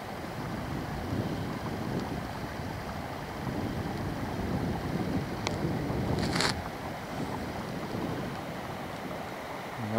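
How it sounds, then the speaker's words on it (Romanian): Steady, rushing spring wind buffets the microphone beside the Merișani river, a constant roar with a couple of brief higher clicks midway. "poate și puțin vântul de primăvară"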